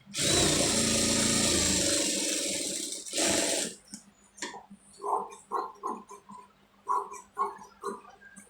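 A sewing machine runs in one loud continuous burst while stitching a sleeve, then stops, leaving faint handling clicks and soft thumps of fabric being moved.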